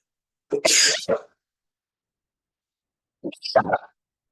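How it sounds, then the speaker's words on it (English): Two sneezes separated by a few seconds of silence, close and sharp, the first longer and breathier, the second shorter with a clipped burst. "bless my sneeze, hold on."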